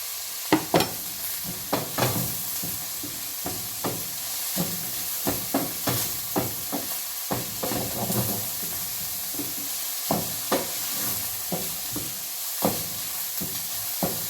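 Carrots stir-fry in a pan for egg fried rice, giving a steady close sizzle broken by repeated scraping and clattering stirs, with no talking.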